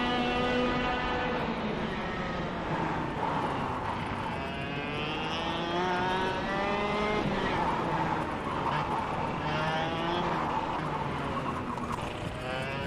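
Go-kart engine in the KartKraft racing sim, a loud, steady buzzing drone that rises and falls in pitch as the throttle is worked, running continuously throughout.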